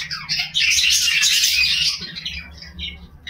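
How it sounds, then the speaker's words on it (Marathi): A young caged bird chirps in a rapid, bright burst of close tweets that thin into softer, scattered calls, alone without speech. "ह्याच्यामध्ये एक पक्षी आहे, त्याला लहान बाळ आहे, त्याला असं जास्त उडता येत नाही"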